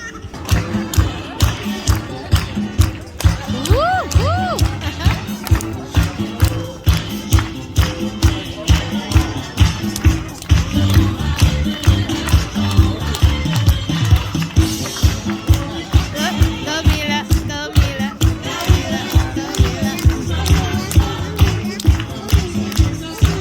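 Aquarium crowd at a sea lion show claps along in a steady rhythmic beat to upbeat music, a continuous chorus of hands keeping time, with a presenter's voice and audience noise mixed in.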